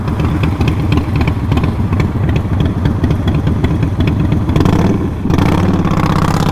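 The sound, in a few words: motorcycle engine with loud aftermarket exhaust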